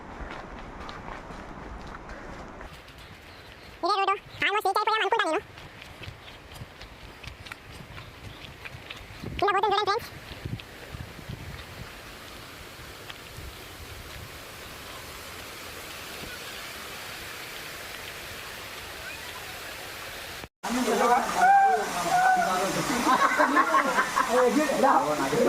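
The Pandavas waterfall near Bayaram in Mahabubabad pours down in a steady, broad rush of falling water. A voice cuts in briefly twice, and the roar grows louder near the end.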